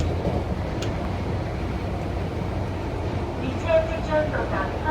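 Onboard an MTR Airport Express train in Hong Kong, a steady low rumble of the moving carriage with track noise throughout and brief brighter tones near the end, with some talk mixed in.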